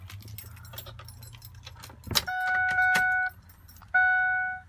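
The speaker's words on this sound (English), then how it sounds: "Let me grab the keys again." Jangling keys for a 2006 Ford F-350 Super Duty with a 6.0L Powerstroke turbo diesel V8, a close metallic rattle and clink with a sharp burst midway, followed by steady electronic chime tones from the truck.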